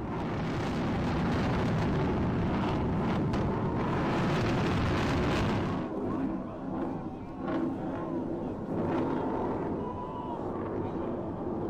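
Roaring rumble of a ballistic missile launch during Iranian military maneuvers, loud and broadband for about six seconds before easing into a steadier, fainter rushing roar.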